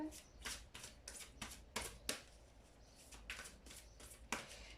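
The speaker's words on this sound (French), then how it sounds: "je fais mon petit brassage de cartes" A deck of tarot cards shuffled by hand in a steady series of riffling, papery bursts, close and moderately loud, with faint background noise between them.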